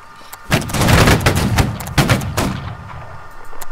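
A musket volley rings out in a Holdfast line-battle video game, a loud crackling burst of many near-simultaneous shots followed by a second ragged volley and fading echoes.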